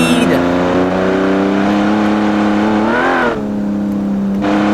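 A 1940s-technology car built in a car-building video game drives along, its engine droning steadily with shifting revs and a brief rise and drop partway through, under ongoing talk.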